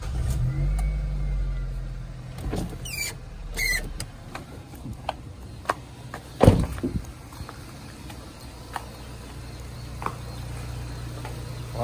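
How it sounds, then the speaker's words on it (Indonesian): A Nissan Grand Livina L10 engine idles smoothly after an oil change with 10W-40 oil, a low steady hum broken by a few mechanical clicks and one sharp knock. "suara mesinnya halus ya, lebih halus dari sebelumnya"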